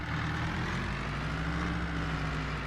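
A truck engine idles steadily in Farming Simulator 22, a constant low rumble with a deep hum holding evenly throughout, close and fairly loud with no speech.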